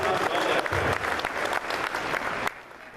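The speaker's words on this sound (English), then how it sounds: "let's give her a round of applause" An audience applauds at a political gathering, a dense burst of clapping that carries on for a few seconds and then drops away abruptly near the end.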